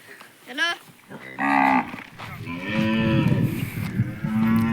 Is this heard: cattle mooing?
yes